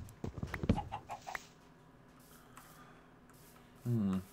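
Minecraft chickens give a short run of clucks up front, then quiet in-game ambience, and end with a brief louder burst. Soft voice sounds mix in with the clucking.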